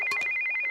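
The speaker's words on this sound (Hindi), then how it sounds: "ये फोन तेरी निशा का ही होगा।" A mobile phone ringing: a bright electronic ringtone with a steady high tone and quick pulsing chirps, close and clear, with no talk.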